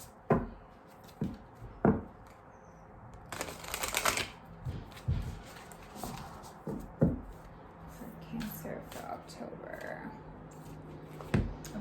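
Sacred Destiny Oracle cards shuffled in bursts of crisp riffling and tapping, with a longer flurry in the middle and scattered clicks around it, close and fairly quiet.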